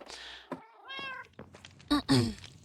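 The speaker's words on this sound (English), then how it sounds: "Another cat. So hard to get the witch cats to spawn." A cat in the Minecraft video game gives a few short, close meows spaced out over a couple of seconds, ending with two louder, sharper cries, with quiet speech weaving between them.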